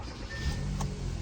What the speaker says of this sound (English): I'm gonna turn on the car